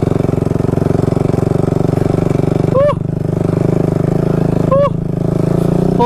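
A Kawasaki KFX 450R quad runs loud and close at a motocross outing, its engine droning steadily with two brief throttle surges as the rider pulls it into a wheelie.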